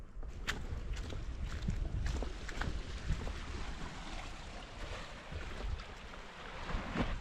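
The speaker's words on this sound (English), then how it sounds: "in this direction there's only the ocean and the view really is quite nice." Ocean waves washing steadily along the shore of the Lofoten Islands, with a constant broadband wash, occasional splashes and some wind, no voices.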